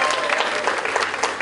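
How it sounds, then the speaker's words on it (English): Applause from the crowd at the Exeter Pride live stage, a steady, close rattle of many hands clapping throughout. "Please give yourself another round of applause."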